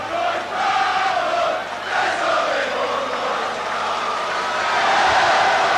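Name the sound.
rugby match crowd cheering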